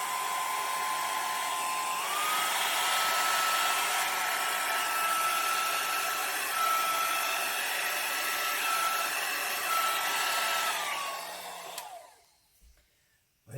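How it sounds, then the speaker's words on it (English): A hair dryer blows paint around a canvas during an acrylic pour, a loud steady whirring blast for about eleven seconds that shifts pitch slightly, then cuts off into near silence. "I'm going to blow it around the canvas to make it move."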